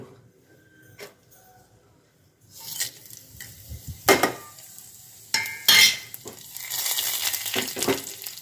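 Spices are tempered in a little hot oil in a pressure cooker, bursts of crackling sizzle mixed with metallic stirring clinks and scrapes that grow busier toward the end.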